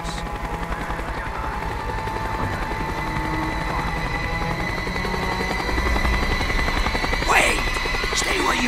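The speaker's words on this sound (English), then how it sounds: "The chopper is coming around again." A helicopter circles in the Call of Duty Black Ops video game, its rotor thrumming loudly and steadily throughout amid scattered gunfire, with a voice speaking briefly near the end.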